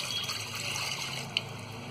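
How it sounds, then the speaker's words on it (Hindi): Water poured from a glass into a pressure cooker heated on a gas stove, a steady close trickle and splash with a brief sharper spatter near the end. "अब डालेंगे हम सबसे पहले इसमें 1 गिलास पानी"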